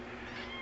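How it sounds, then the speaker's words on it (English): A baby kitten gives one short, faint meow, brief and close, over quiet background noise. "I'm sure you can hear the baby kitten right now."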